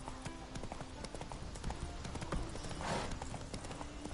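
Horse hooves clip-clopping at a steady gallop in the video game The Witcher III, a quiet continuous drumming of hoofbeats carrying through the whole stretch beneath faint game ambience.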